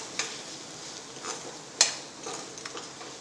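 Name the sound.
stirring tomato ketchup and schezwan sauce together with a spoon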